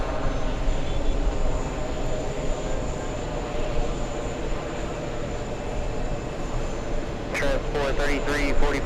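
An airliner taxies at JFK airport, its engines a steady, loud, broadband rumble that holds throughout, with a brief voice near the end.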